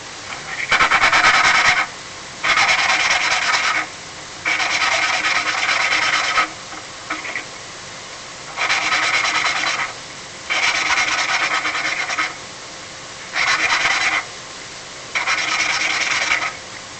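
Valve on a Coleman Powermate 5000ER generator engine being lapped with grinding grit, a gritty rasping rub in seven steady bursts of about two seconds each, separated by short pauses, close and fairly loud with no talking.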